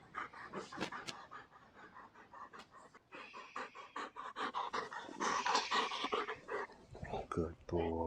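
A stressed dog pants in quick, rhythmic breaths close by and lets out whimpers, while other dogs approach from behind; a person speaks over the panting.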